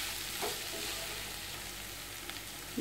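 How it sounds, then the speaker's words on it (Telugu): Cumin powder and spices are stirred into vegetable biryani in a pan, making a faint, low sizzle with a couple of soft scrapes of a spoon, close and quiet. "వీటిని కొంచెం కలుపుకుందాం"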